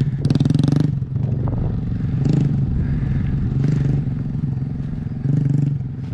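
A Honda Grom motorcycle pulls away in first gear. Its small engine buzzes loudly and steadily, with a few throttle surges and revs close by and no talking.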